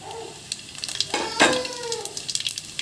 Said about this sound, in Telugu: హీట్ అయ్యాక ఇవి వేసుకోవాలండి వరుసన. షాజీరా, జీలకర్ర ఎక్కువ హీట్ కాకూడదండి.